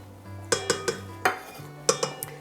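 Flour going into pizza dough in a bowl, heard as several sharp clinks and taps of a utensil against the bowl in quick succession, close and clear with no talking.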